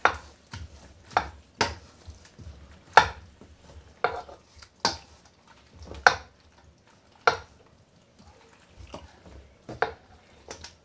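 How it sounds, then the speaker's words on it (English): Old El Paso mild red enchilada sauce being stirred in a sheet pan for sheet pan enchiladas, with a steady series of close scraping and tapping utensil strokes and no talking. "And now we're just going to give that a good stir."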